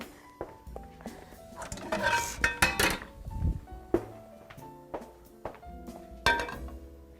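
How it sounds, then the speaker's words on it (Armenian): A frying pan is brought over and set down in a home kitchen while breakfast is prepared, with scattered metallic clanks, thunks and clinks of cookware at close range. "Ահա, բերում եմ թավան"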